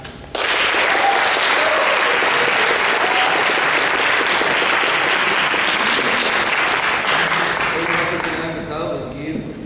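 Audience at a school debate breaks into loud, sustained applause that begins abruptly and fades near the end, with a voice speaking over the tail.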